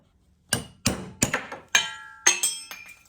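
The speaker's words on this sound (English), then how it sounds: "Give it a couple of hit with a chisel or something just to loosen it off" Hammer striking a chisel to loosen a bearing cap: six or seven sharp metallic clanks in an uneven rhythm, close and distinct, ringing briefly, with no speech.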